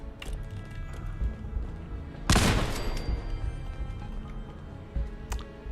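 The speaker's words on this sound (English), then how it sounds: "let's kill these guys with a grenade" A grenade bursts among enemies in Fallout 4: one loud, sharp explosion partway through, rising over steady game background noise and fading into a lingering rumble.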